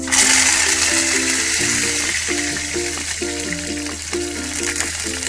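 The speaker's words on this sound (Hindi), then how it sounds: "ऑयल गरम हो गया है, इसमें हम मस्टर्ड सीड्स डालेंगे, करी लीव्स," Mustard seeds and curry leaves hit hot oil in a pan for a Hyderabadi mirchi ka salan, giving a loud, dense crackling sizzle that slowly eases, with faint musical tones in the background.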